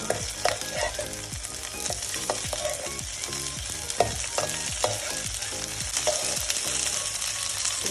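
Shrimp and lentil fritters frying in oil keep up a loud, constant sizzle, punctuated by regular scraping and knocking as a spoon turns them over again and again.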